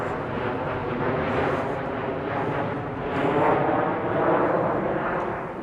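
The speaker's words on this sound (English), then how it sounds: "you can't hear that because of the plane overhead" A plane passing overhead outdoors, a broad rumbling drone that swells and eases over a few seconds, fairly loud, with no talk.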